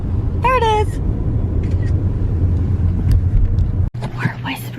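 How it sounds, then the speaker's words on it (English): A garbage truck rumbles past on a road as a low steady drone heard from inside a moving vehicle, with brief voices and small clicks over it. "Garbage truck."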